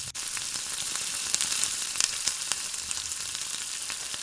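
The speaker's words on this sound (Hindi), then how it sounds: "चिकन को ठीक से भून लेंगे।" Chicken pieces browning in a pan for a simple chicken masala curry, a dense continuous sizzle with scattered crackling pops, close and steady throughout with no voices.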